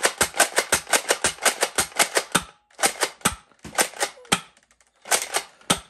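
An Adventure Force Villainator toy blaster with a rotating drum magazine fires rapid bursts of sharp mechanical clacks, about a dozen quick shots, a pause, then shorter volleys, close and loud.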